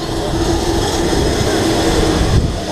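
A steady, loud aircraft engine drone fills the scene before a skydiving jump, a continuous rumble with no breaks that ends with a brief dip.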